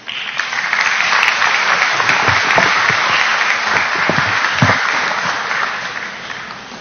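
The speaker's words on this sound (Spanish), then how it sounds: "a quien vamos a recibir con fuertes aplausos" Strong applause fills a hall at a Peruvian Medicine Day ceremony as the health minister is welcomed, rising quickly into a loud, dense, steady round that slowly fades near the end.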